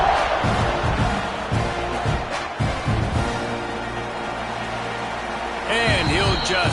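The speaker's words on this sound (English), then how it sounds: "this crowd is buzzing after that last score" Football stadium crowd in the fourth quarter of a college football game, buzzing steadily after a score, a loud continuous roar with a commentator talking over it throughout.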